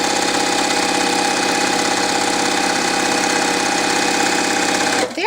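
Sewing machine joining a pair of quilt triangles, a loud, close, steady motorized hum with a rapid needle rhythm that cuts off abruptly at the end; no talking.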